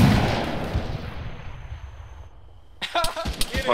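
Heavy friendly Zeus gunfire in the military shooter ARMA 3 booms and rumbles loudly at first, then decays into a long fading tail, before sharper bursts and a voice break in near the end.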